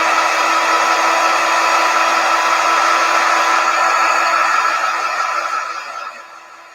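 A hair dryer blows steadily and loudly up close, drying chalk paint on an upcycled bulletin board, a continuous rushing whir that holds for several seconds before tapering off near the end.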